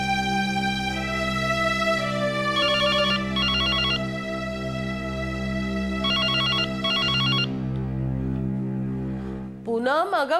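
A landline telephone rings in a home, repeated bursts of an electronic bell tone sounding loudly over a steady musical bed, then cutting off as a voice begins at the end.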